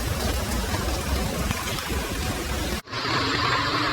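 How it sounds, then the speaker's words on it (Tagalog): Heavy typhoon rain in Hong Kong pours down steadily in a dense, loud roar, briefly cutting out near the end before resuming with a hissier, brighter wash. "Grabe dito sa ulan."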